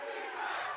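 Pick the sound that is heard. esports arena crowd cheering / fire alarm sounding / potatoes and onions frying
esports arena crowd cheering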